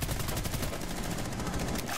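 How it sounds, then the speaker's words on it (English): Gunfire in the Rainbow Six Siege video game, a loud, dense stream of rapid shots that fills the moment without a break. "he shot me to my left."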